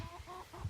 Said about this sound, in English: That's a rooster right there.